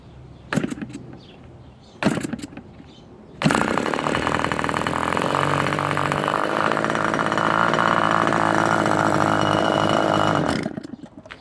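Rebuilt Como .51 RC model engine, a Super Tiger clone, coughing through two short bursts before catching and screaming at a loud, steady high-revving buzz for about seven seconds, then cutting off abruptly.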